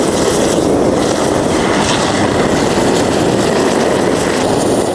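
A heat lance blasts steadily while heating and drying a concrete car park surface, giving a loud, continuous roaring hiss with no pauses, close by and alone.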